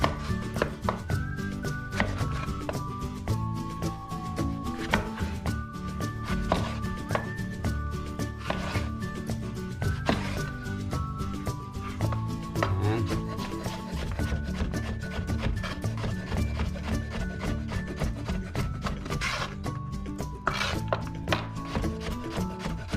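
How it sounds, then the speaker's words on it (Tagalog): A knife chops vegetables on a board in a steady, rapid run of close, crisp thuds that continues throughout, with no talking. "So sunod na natin hiwain guys"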